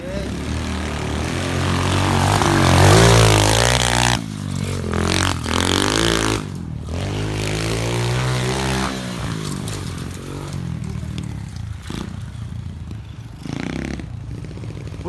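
An SSR 125 pit bike revs hard on a small hill climb, the engine buzzing and surging loud and close, dropping off and picking back up as the throttle changes.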